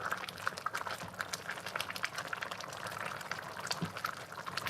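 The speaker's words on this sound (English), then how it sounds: "Just gonna stir this a little bit" Mixed greens with collards and turnips cooking in a pot, a steady bubbling, boiling wash with scattered liquid clicks and a few soft stirring knocks, continuous and fairly close.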